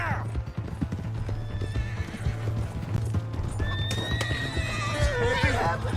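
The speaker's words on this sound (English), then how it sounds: "Hey, that's my horse!" Horse hooves clip-clop at a gallop with sharp whinnies and neighs in Red Dead Redemption 2, a steady rhythmic pounding under game music and scattered shouting voices.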